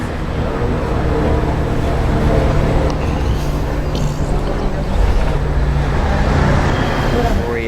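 Traffic roar on a Tokyo expressway heard from a moving vehicle, a dense continuous rumble and road noise that stays loud and steady throughout.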